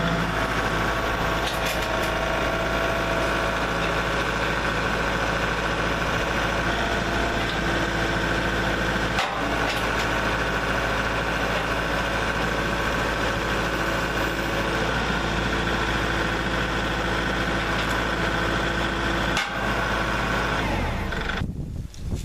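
A Kubota MX series tractor engine idles steadily and loudly throughout, a constant low rumble with a faint high whine, cutting off abruptly near the end.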